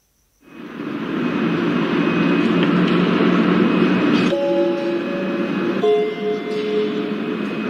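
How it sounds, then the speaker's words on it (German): An Intercity Express train bound for Hannover rolls into a station platform, rising from silence to a loud, sustained rumble with whining tones and squealing brake-like pitches near the end. "auf Gleis 3 fährt ein der Intercity Express nach Hannover"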